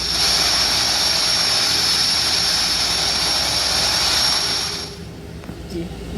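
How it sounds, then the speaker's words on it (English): The de Havilland Twin Otter in the GeoFS flight simulator makes a steady, loud propeller and engine drone with a high whine on top. It holds constant for about five seconds, then drops away to quieter background noise. "if you're wondering what the propeller sound of a Twin Otter sounds like in this game"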